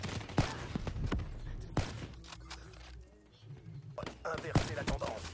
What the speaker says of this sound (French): Il faut que je tire dans le ciel, bam!